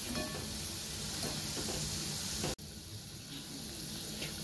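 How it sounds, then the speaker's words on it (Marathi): Sabudana and potato rolls frying in oil over low heat, a steady close sizzle that runs without a break apart from a momentary cutoff partway through. "तर असे एक एक करून आपण सगळे जे रोल बनवले होते ते पूर्णपणे तळून घेऊया"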